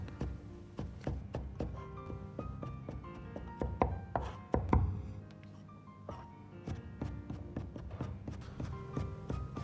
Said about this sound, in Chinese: 切成丝后再切成小丁。